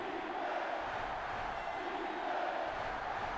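A sellout stadium crowd roars steadily at a college football game in NCAA Football 2005, Virginia Tech hosting USC, on a third down. The noise is a dense, constant wash without pauses and with no talk.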